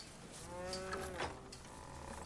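A cow lets out one drawn-out, tonal moo in a scene from The Last of Us TV series, rising and fading over about a second against a quiet background, with no speech.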